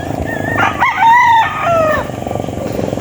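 A Papay Grey over Boston Roundhead gamefowl rooster crows once, a loud, close, drawn-out call with a rising start and falling tail, over faint farmyard background.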